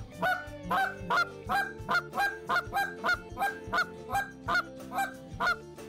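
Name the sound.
goose call imitating Canada goose honks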